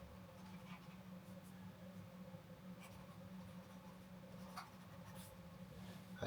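An Amazon Kindle Scribe pen scratches across the screen while signing a signature, soft, rubbery strokes that are faint and close against a quiet room hum.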